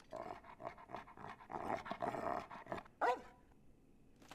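An anime dog barks and pants in a scene from Hunter x Hunter episode 56, with repeated short close barks and breathy panting, then a sharper louder bark near the end before the sound drops away.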